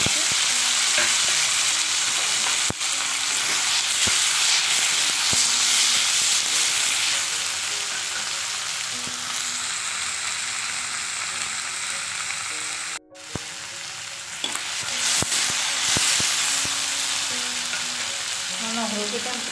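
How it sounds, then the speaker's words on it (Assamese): Onions fry in hot oil in a wok with a steady, close sizzle and occasional stirring scrapes, running nearly unbroken apart from a brief dip, with no talking. "এয়া কেৰাহীত তেলখিনি গৰম হৈছে। এইখিনি মই পিয়াজ বহাই দিছো।"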